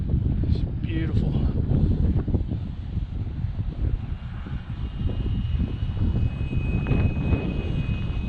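An electric Sig Kadet Senior model airplane makes a flying pass on a gusty day, its motor a faint whir mostly buried under heavy wind noise on the microphone, with a brief spoken word early on.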